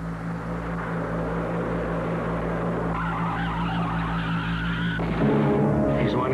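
A car skidding after a tire blowout, a loud sustained tire screech over a low engine rumble that cuts off abruptly near the end.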